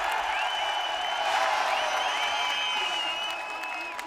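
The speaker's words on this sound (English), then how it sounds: "listen to the crowd" Trackside crowd at the 2017 German MotoGP race at the Sachsenring, a broad sustained roar of cheering heard from a distance, swelling slightly then easing, with a commentator talking over it.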